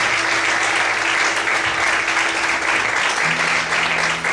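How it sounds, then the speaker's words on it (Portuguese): A church congregation at a worship service applauds loudly and continuously, a thick, even roar of clapping over a faint sustained tone. "Vamos aplaudir mais uma vez a Deus?"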